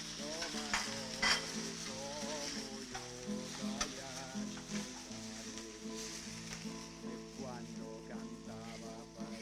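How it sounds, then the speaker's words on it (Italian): Steady sizzling and crackling of shrimp and swordfish frying in a hot pan, continuous and close, with a faint background tone and occasional clinks. "facciamo soffriggere, aggiungiamo gamberetti e il pesce spada."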